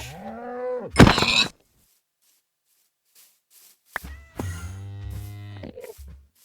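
Minecraft cows moo in the video game, a low drawn-out bovine call late on, with other game effects earlier and quiet gaps between.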